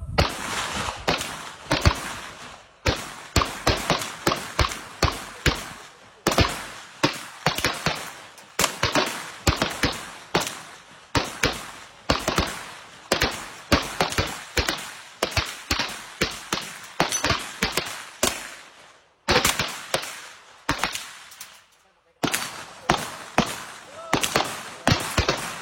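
Ten sharp gunshots from a firearm at shooting practice, each loud and close, fired in quick bursts with brief pauses between groups of rounds.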